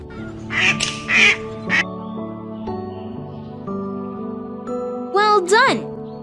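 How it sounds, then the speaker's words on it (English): Several quacking bursts sound early on, then a rising duck call near the end, set against bouncy background game music. "Ducks are hungry. Please choose their preferred food."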